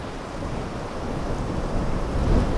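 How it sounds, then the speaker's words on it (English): Large ocean surf around twelve feet breaking on a beach, a loud, continuous roaring wash of churning water that swells slightly toward the end, with no voices. "Now the swell's a good 12 foot today, waiting for a bigger set."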